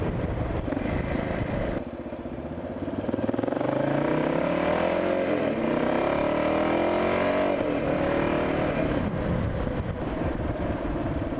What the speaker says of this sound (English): That is my little look and a little ride on an XT500